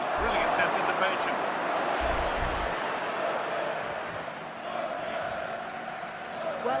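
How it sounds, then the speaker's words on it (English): Football stadium crowd in a video game, a steady roar of many voices with a few faint shouts rising out of it. A commentator talks over the crowd. "Well, just listen to this crowd."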